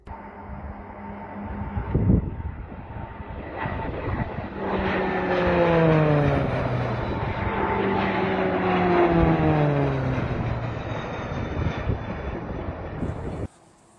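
RAF Texan T1 training aircraft passing over RAF Valley in Anglesey, a steady propeller drone whose pitch falls sharply as it sweeps by, loud and close, then cutting off abruptly at the end.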